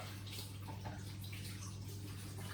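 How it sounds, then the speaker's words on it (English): Hands being washed under a running kitchen tap, giving a short, steady, close rush of water with no talking. "while I wash my hands"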